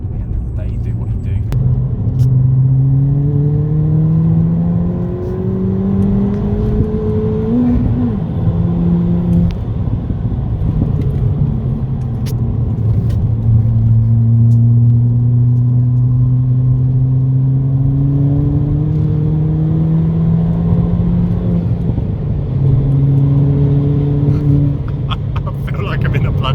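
Tuned Ford Fiesta TRS S280 engine revving hard through rising gear pulls, a loud close drone climbing and dropping repeatedly with rough rumble, heard from inside the car while people talk over it.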